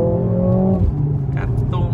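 A stock sports car engine revving hard during a car meet, the loud droning roar rising and holding near the microphone, with people talking over it.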